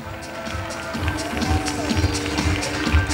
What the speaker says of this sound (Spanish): Fuerte aplauso para María Rojas Barrio Nuevo